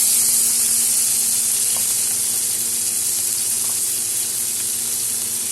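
Dried chili, panch phoron and tomato sizzling in hot oil for a Bengali potato curry, a loud, steady hiss and crackle held evenly throughout.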